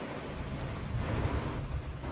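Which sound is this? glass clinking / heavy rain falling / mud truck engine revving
heavy rain falling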